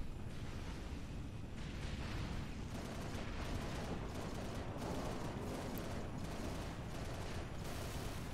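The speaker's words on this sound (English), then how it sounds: "we got a turret coming after us now" Heavy turret fire in Halo Reach lands in a dense, continuous barrage of rapid blasts and booms, loud and unbroken throughout, with no voices over it.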